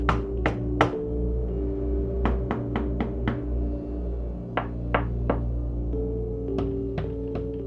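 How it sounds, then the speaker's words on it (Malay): Someone knocks repeatedly on a front door in sharp, uneven bursts of two to four raps, with pauses between them. The knocks are clear and fairly close, over a steady low humming background. "dia terdengar bunyi pintu depan diketuk"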